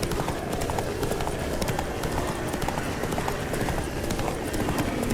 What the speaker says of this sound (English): Geralt, we gotta have a man-to-horse talk